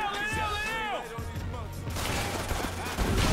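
Gunfire from the 50 Cent: Blood on the Sand shooter game, a burst of shots crackling through the second half amid game sound effects, with a voice talking over the opening.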